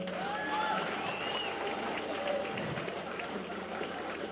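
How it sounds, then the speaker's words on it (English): Crowd applause at an outdoor political address by the Prime Minister at Babu Jaan, steady and moderately distant, with faint voices mixed into the clapping throughout. "Round of applause to that."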